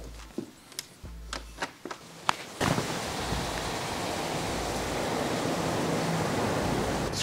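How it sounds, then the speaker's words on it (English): Ocean surf off a South Florida oceanfront mansion, heard after a few soft knocks and clicks as patio doors open, then a continuous broad roar of distant waves that swells slightly and stays steady. "just crashing waves in the distance"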